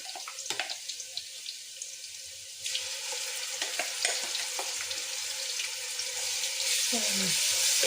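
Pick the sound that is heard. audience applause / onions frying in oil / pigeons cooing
onions frying in oil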